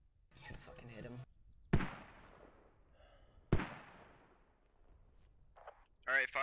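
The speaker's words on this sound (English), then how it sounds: "Alright, fire mission, 2 mortars out" Two sharp, booming mortar explosions in the video game Squad land a couple of seconds apart, each trailing off in a rumbling decay, with radio-style voices talking before and after.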